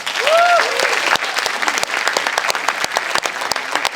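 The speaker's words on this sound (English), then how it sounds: "let's give them another round of applause" Another round of applause for moderators and panelists at the ASEAN Real Estate Conference 2025, brisk clapping from a seated audience with a brief tone sounding near the start.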